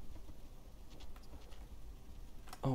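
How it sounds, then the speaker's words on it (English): Soft, faint rain patters steadily in the video game Rain World, with light scattered ticks and a brief louder blip at the very end. "Wait, it's already raining?"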